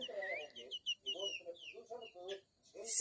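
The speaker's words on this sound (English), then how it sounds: "The hen on the other side, the chicken hen, it is observing" A domestic chicken hen clucks repeatedly in short, close bursts, with a wild bird nearby adding higher chirps between the clucks.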